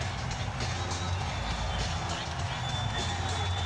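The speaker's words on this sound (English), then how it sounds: "The crowd here cheering on the Orlando Magic" A packed arena crowd at a 1995 NBA game cheers on the Orlando Magic against the Chicago Bulls, a continuous loud roar of many voices filling the whole stretch.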